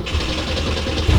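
An Alfa Romeo Spider 105/115 idles just after starting, a steady loud mechanical drone with low throbbing pulses and no talk over it.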